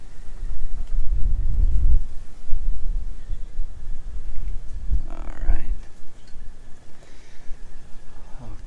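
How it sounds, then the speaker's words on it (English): Strong wind buffeting the microphone outdoors on a waterfront in Norfolk, Virginia, loud low rumbling gusts throughout, with a brief voice-like sound partway through. "Woo-wee, that wind is strong."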